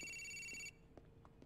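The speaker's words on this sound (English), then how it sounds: "The phone's ringing." Ringing phone in the video game Grand Theft Auto 4, a steady electronic ring that sounds for under a second and then cuts off, leaving faint background game noise.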